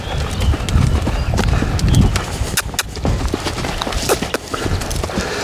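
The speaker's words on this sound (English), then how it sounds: "I'm gonna keep him loping around here till he kinda smooths out." A two-year-old colt lopes around a round pen, hooves thudding in a steady repeating rhythm close by, with occasional sharp knocks and no talk.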